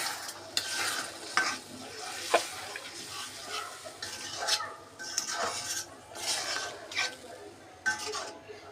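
Bean seeds, 250 grams, are stirred into an oily spice paste in a pan, with soft sizzling under repeated scraping and clinking strokes of a spoon, close and fairly quiet.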